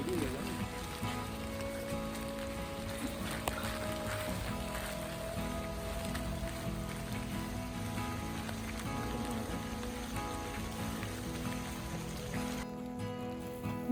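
A steady downpour of heavy rain hisses continuously in the Badagamuwa forest, loud and even throughout, with a faint murmur of voices underneath and the rain thinning briefly at the very end.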